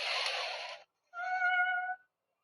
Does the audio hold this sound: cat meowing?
yes